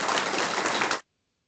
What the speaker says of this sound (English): everybody let's give Tint a round of applause here